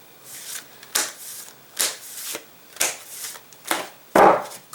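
Tarot cards shuffled by hand, a series of six or seven crisp riffling bursts at a steady, roughly once-per-second rhythm, close and fairly loud, ending with a slightly heavier slap of cards.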